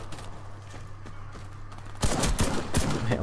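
Gunfire from the Python weapon in the Warface shooter game, a quiet stretch followed by a burst of several loud, sharp shots over the last second.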